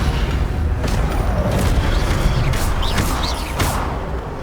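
In Hogwarts Legacy, a Levioso spell is cast with a few sharp magical whooshes and bursts over a rumbling game soundscape, loud and close.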